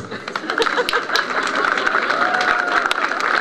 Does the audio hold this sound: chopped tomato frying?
no